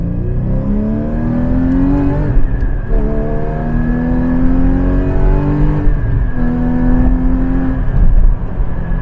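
A car with a new short-ratio gearbox accelerates through the gears, its engine revving up in rising sweeps that drop at each shift, steady and close with no talking.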